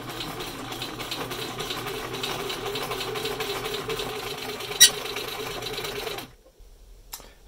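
A sewing machine stitches through a vinyl sign on its longest straight stitch, a close, steady mechanical whir with one sharp tick partway through, then stopping abruptly near the end.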